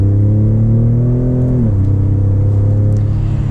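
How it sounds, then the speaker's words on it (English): A 2019 Ford F-150 Raptor with a V6 accelerates hard, a loud droning intake roar with some exhaust rising steadily in pitch, then dropping at a gear change and climbing again, heard close from inside. "You hear a ton of intake noise, a little bit from the exhaust, but most of it is intake noise"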